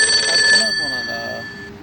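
A telephone ringtone chirps in a clear, steady electronic pattern, nearby and fairly loud, as a caller dials a tractor trolley owner and waits for an answer.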